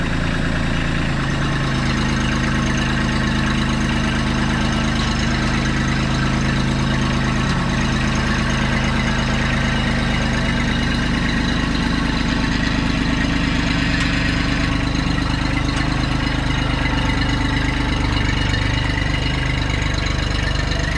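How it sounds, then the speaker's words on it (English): A tractor engine idles steadily and close by, a continuous low rumble with a slight knock that holds unchanged for about twenty seconds, with no talking over it. "that's a beautiful tractor"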